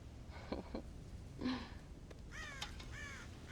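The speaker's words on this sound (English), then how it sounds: "God damn crows!" Crows caw in the video game Red Dead Redemption Remastered, with several harsh calls spaced apart, some faint and distant and others clearer toward the end, over a low ambient background with no speech.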